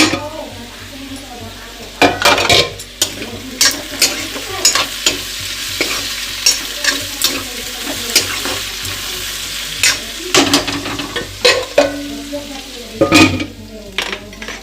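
Vegetables fry and sizzle in a pan in a home kitchen while a spatula stirs and scrapes against the metal in loud, irregular bursts over a steady hiss, with faint voices now and then.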